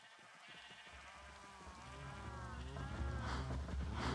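Sheep on a Minecraft farm bleat in a few wavering calls that grow louder toward the end, over a low steady background.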